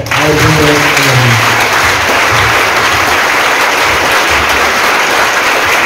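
A church congregation applauding during a Christmas service, loud, dense and steady for the whole stretch, with a brief voice at the start under the clapping.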